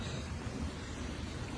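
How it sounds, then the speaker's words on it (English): Steady hard rain pours down on the first day of rain during outdoor farm chores, a dense, continuous hiss and patter close by with no voices. "Decent little hard rain."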